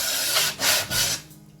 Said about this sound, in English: the only reason why I'm sanding this is because I'm getting ready to go over it with stain